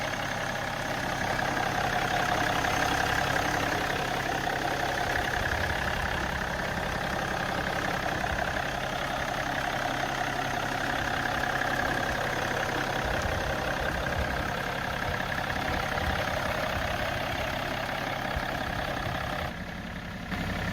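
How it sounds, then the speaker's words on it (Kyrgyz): A 2002 BMW X5 3.0 diesel with an automatic gearbox idles in a steady, even drone that holds unchanged for about twenty seconds, fairly quiet and with no talking. "Моторун атсак жагы."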